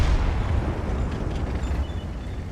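A WZ-111 tank gun fires amid explosions in World of Tanks, producing a continuous, heavy low rumble of blasts and booms with no voices.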